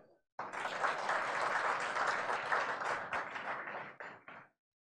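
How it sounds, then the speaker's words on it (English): Clapping from part of an audience at a political speech on Rajasthan's Olympic plans: a dense, steady burst of applause lasting about four seconds, then thinning into a few scattered claps before it stops. "I see only this side clapping"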